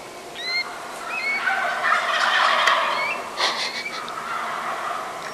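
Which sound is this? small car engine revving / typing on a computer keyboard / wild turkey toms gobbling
wild turkey toms gobbling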